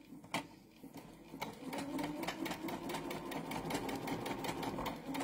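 A sewing machine stitches quilting fabric squares together, its needle running in a fast, steady rhythmic chatter that stays close and continuous, with a few sharper clicks near the start and no talking.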